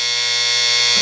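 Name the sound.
alarm buzzer of a Philco 53-702 clock radio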